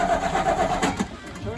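An old, rusted-out project car's engine cranks with a rhythmic chugging whir from the starter, close and loud, then briefly catches and turns over, with a voice speaking over it.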